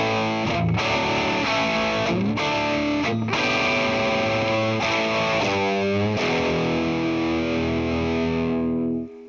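Electric guitar with heavy overdrive played through a Fender Super Sonic amplifier with the first gain set high and the second lower, giving a loud, sustained 70s-80s rock tone as chords ring out and then fade at the end.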